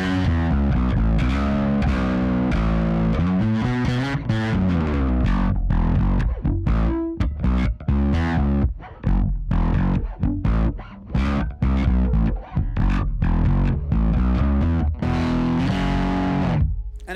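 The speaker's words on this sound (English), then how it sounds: "I like the tube simulator one, quite a nice warm distortion." An electric guitar on the bridge pickup plays through a tube-simulator overdrive pedal with thick, warm distortion, sustained chords giving way to choppier riffing, loud and up close with no voices.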